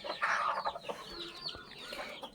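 A mother hen with a brood of about ten chicks, raised on dry fish, clucks in quick close bursts amid thin high peeping, continuous and fairly loud for a couple of seconds.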